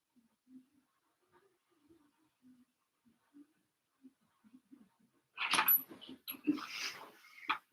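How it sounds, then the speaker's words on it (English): A house dog by the garbage, making faint soft whimpers and small whines for several seconds, then louder rustling and scuffling bursts nearby. "There's a dog that knows we have garbage."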